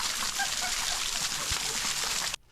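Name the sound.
hot waterfall at the base of Gros Piton, Saint Lucia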